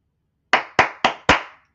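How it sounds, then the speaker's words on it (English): Four sharp, close hand claps in an even, brisk rhythm, a coach-style Jason Garrett clap, each crack ringing out alone against silence. "Jason Garrett clap"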